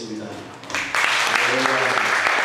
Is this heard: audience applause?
yes